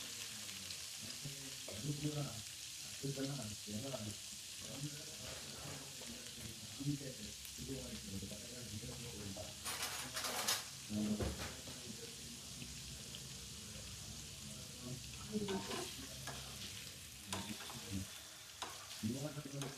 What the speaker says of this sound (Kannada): ಇದನ್ನ ಮೀಡಿಯಂ ಫ್ಲೋ ಅಲ್ಲಿ ನಾವು ಫ್ರೈ ಮಾಡ್ಕೋಬೇಕಾಗುತ್ತೆ